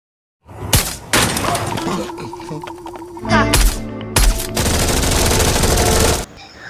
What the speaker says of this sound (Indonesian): Namun karena tembakan peringatan diberikan Vandes